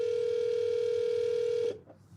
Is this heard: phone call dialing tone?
yes